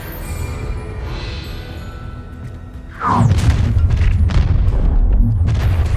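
Confringo explosive spell blast in Hogwarts Legacy: a sudden loud booming impact about halfway through, then a sustained heavy rumble with crackling debris and whooshing effects, after a quieter stretch of magical shimmer.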